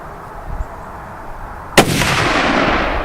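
A single sharp rifle shot cracks outdoors, followed at once by a loud, rolling roar that holds steady rather than dying away, as if a tannerite target detonated and its blast keeps echoing. A faint thump comes earlier. There is no speech.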